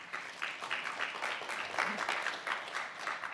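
An audience at a 2015 case study presentation on Food Chains claps in sustained applause, a dense, fairly faint patter of many hands with a voice briefly heard beneath it.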